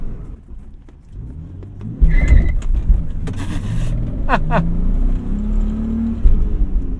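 A cheap car's engine revs hard while driving. After a quiet start, a loud surge of rumbling acceleration rises and holds, with whirring tones and clicks over the top and occasional speech nearby.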